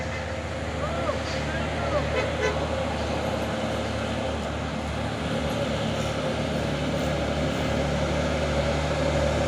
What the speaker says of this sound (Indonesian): Wah, rame nih ya pasukan truk sawit nanjak.